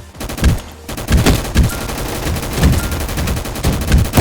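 Rapid sniper rifle fire in the Gun Fight Arena video game, a dense run of sharp, loud, closely spaced shots that keep going without pause.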